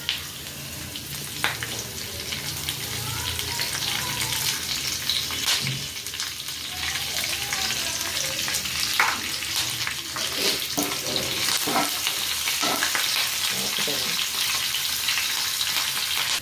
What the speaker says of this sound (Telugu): జీలకర్ర వేసుకున్నాక కరివేపాకు వేసుకున్నాం.